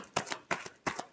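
Three quick riffle shuffles of a tarot deck, each a crisp papery burst, close and faint in a quiet room.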